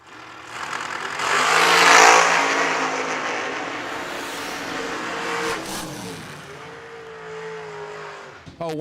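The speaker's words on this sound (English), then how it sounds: "another drag race" Cars in a drag race at the Ultimate 64 event give a loud, sustained engine roar that swells and fades as they run, with a voice faintly beneath it.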